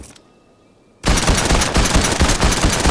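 Loud, close gunfire from Fortnite bursts in after a near-silent second, forming a dense stream of rapid blasts that runs to the end without a break.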